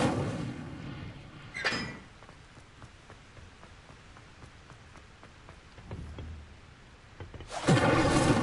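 Incendio fire spell cast in Hogwarts Legacy, heard as two loud roaring bursts, one early and one near the end, with quieter crackling noise between them.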